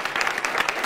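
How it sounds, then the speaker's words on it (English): Brief burst of audience applause at a public library author talk, a close patter of clapping hands lasting under a second. "Can we have a round of applause for the people who spoke and took the time to speak?"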